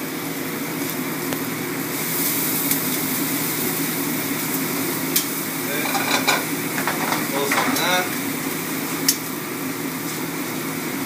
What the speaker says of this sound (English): we're going to go mushrooms, shallots, and garlic. Okay, we're going to get that sauteing on a nice high heat